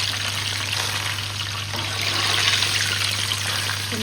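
Taqliya for molokhia frying in oil and ghee, a steady crackling sizzle that swells slightly midway, close and continuous with a low hum underneath.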